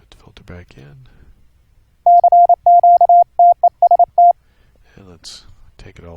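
Filtered Morse code tones from a software receiver setup for an internet QSO: a short keyed run of dots and dashes at a steady pitch, loud and clear, with a person talking before and after it.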